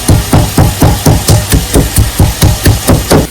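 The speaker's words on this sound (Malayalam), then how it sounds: "ഈ പച്ചമുളക് നന്നായിട്ടൊന്ന് ചതച്ചെടുക്കണം" Green chilies for egg puffs are crushed with steady, loud pounding, about fourteen evenly spaced heavy thuds in quick rhythm, close up with no talking.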